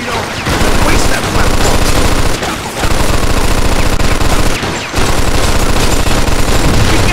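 Sustained bursts of MG42 machine gun fire in the video game Mafia 2, loud and close, rattling in long continuous strings with two brief pauses, drowning out everything else.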